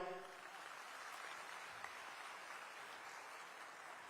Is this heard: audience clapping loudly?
yes